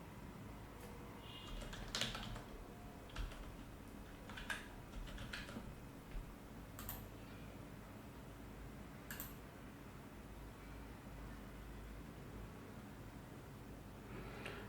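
Quiet typing on a computer keyboard, irregular light key taps and occasional sharper clicks spread across a steady background hum, no talking.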